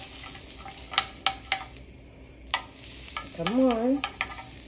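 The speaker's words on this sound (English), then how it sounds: "So I'm going to kind of pan sear the shrimp." Shrimp sear in lemon herb butter in a pan with a low, steady sizzle, punctuated by sharp clinks and scrapes of stirring, while a voice briefly speaks near the end.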